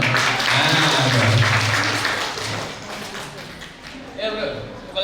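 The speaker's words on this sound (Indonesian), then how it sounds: "Tepuk tangan sekali lagi dong." People clap at a local small-business roadshow event, brief applause mixed with voices talking over it, fading midway before a short renewed burst at the end.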